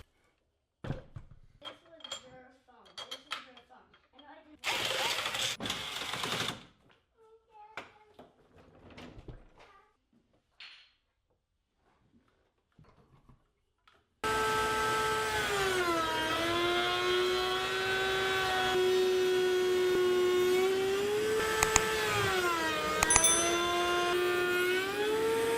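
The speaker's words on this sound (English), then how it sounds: "So I'm going to put my power feeder on the router table." A router table with a power feeder mills rails for Shaker-style cabinet doors. After a quiet stretch of voices and scattered clatter, a loud, steady, high whine starts midway and runs continuously to the end.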